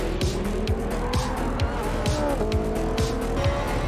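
A Porsche road car's engine screams at full throttle while racing in Gran Turismo 7 against GR1 cars, revving hard through repeated quick gear shifts with some tire squeal, loud and continuous.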